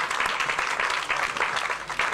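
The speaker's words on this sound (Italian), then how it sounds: "fate un applauso, perché il protagonista della serata è il sindaco" Crowd applause at a political rally in Campobasso, a dense and steady wash of many hands clapping that continues without a break for about two seconds.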